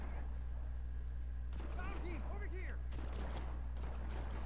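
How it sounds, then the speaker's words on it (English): Gunfire in Just Cause 4 sounds in a few separated bursts over a steady low engine-like drone, with a voice talking in between the shots. "Keep shooting at me."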